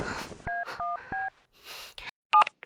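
A telephone number is dialed with touch-tone keypad beeps: three short tones in quick succession, a pause with soft breathy noise, then one more beep near the end.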